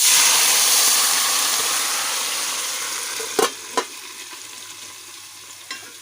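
Cooked sarson ka saag (mustard greens) is scraped and stirred into a clay handi, a steady hiss and sizzle fading slowly, with a few sharp clacks of the spoon near the end.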